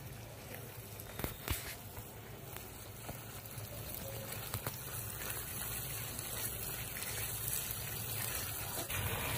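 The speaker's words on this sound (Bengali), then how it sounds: "বাটি ধোয়া জলটা দিয়ে দেবো।" A steady, faint gush of bowl-rinsing water poured into a pan of sizzling poppy seed and cashew paste masala, a continuous wash of noise lasting several seconds with no talking.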